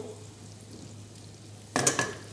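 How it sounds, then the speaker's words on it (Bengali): Onions fry in an uncovered pan of gravy over raised heat for paneer aloo masala, a faint steady sizzle broken near the end by a brief scraping stir. "প্রপারলি আমরা এটাকে ফ্রাই করে নেব"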